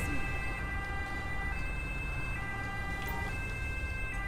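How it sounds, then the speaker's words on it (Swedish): An ambulance siren wails steadily in a GTA video game, a continuous mid-distance electronic tone over low traffic rumble, with no talk. "Nu kommer det jäkla mycket ambulans personal här."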